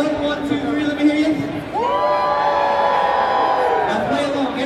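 Rodeo crowd at the Calgary Stampede screaming and cheering, a broad roar of many voices with whoops and high shrieks, swelling after a short call from a voice and staying loud.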